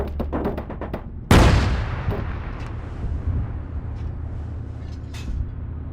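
Gunfire in the military shooter ARMA 3: a burst of rapid shots, then one loud, close blast with a long rumbling decay, followed by scattered fainter reports further off.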